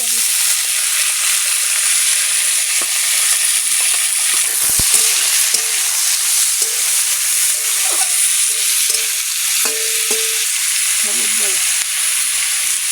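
Garlic fries in hot oil in a home kitchen, a loud steady sizzling hiss that runs throughout with occasional stirring scrapes and faint clinks.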